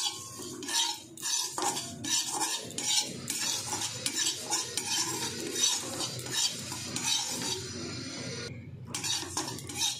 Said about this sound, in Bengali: প্রথমে আমি কড়াই দিয়ে দিচ্ছি সাদা তিল। আমি তিলটা একটু হালকা ফ্রাই করে নেব।